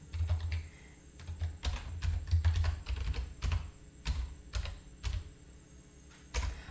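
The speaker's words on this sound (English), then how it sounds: "No, hold on, I typed this wrong here. Let me delete this." Bursts of rapid keystrokes on a computer keyboard, close and clear, pausing between short runs of typing with no voices.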